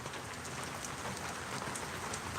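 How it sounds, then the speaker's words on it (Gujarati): Heavy rain falls steadily on a village in Gadhada taluka, Botad district, Gujarat, as a thick, even hiss of drops on surfaces. It carries no voices and barely varies. "હજી વરસાદ પણ ચાલુ છે"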